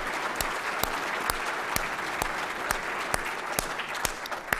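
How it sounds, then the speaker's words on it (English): At a health academy membership meeting, the audience applauds in a sustained, even patter of many hands. A few sharp, close individual claps ring out at a steady beat above the crowd. "So a round of applause for them again."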